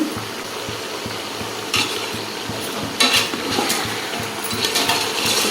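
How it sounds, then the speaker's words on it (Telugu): Spiced Andhra-style goat head curry is stirred in a pan, a steady low sizzle with regular spoon scrapes and occasional louder clanks against the metal, close and continuous without voices. "కలబెట్టుకొని కాస్త పచ్చి వాసన పోయేదాకా మగ్గనివ్వాలి."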